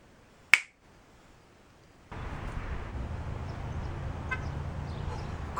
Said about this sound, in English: What if I could just snap my fingers and I'd be there?